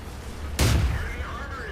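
A single sharp burst of gunfire in a third-person shooter video game strikes near, then rings out into a decaying tail, alone without talk.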